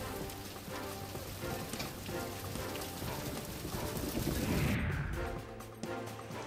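Heavy monsoon rain pours down in Maharashtra, a steady dense wash of drops that holds constant throughout and swells briefly near the end, with no speech.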